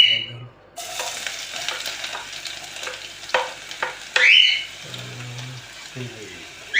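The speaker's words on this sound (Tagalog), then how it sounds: "Igisa natin yung magiging ulam natin na Adidas." Garlic sautéing in a pan for a home-cooked dish, a loud, bright sizzle that starts abruptly, with stirring scrapes and clatters and short bursts of talk over it.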